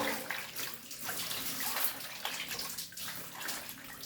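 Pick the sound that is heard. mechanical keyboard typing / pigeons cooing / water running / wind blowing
water running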